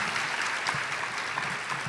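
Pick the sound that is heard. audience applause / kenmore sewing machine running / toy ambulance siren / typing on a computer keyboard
audience applause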